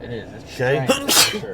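A person speaks briefly, then a sharp, loud sneeze bursts out near the end, close to the listener, interrupting the talk.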